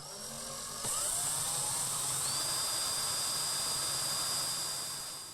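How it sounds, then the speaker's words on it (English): A steady high-pitched whine of a power drill boring into wood, starting abruptly and running continuously for several seconds, close by. "I'm just going to drill a hole for it here, which I've marked."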